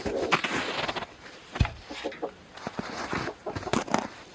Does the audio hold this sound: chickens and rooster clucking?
yes